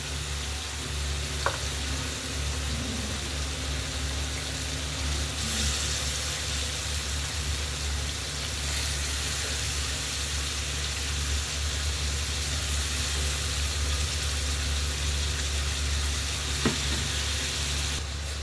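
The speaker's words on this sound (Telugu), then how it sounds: "ఇప్పుడు నానబెట్టుకున్న శనగపప్పు వేసుకున్నానండి మసాలాలో కాసేపు బాగా మగ్గాలి" Soaked chana dal cooking down in a tomato masala in a pan, giving a continuous close sizzle with a couple of faint clicks and no talking.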